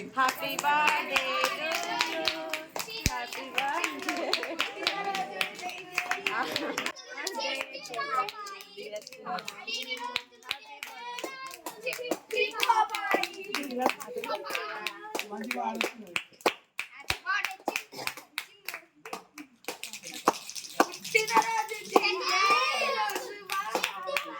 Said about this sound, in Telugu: చప్పట్లు కొట్టుర్రా